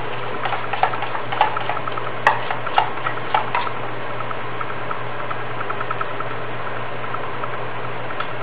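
Black gram flour pancakes frying in oil in a pan, a dense steady sizzle and bubbling close up, with a few light clicks of stirring or a utensil early on.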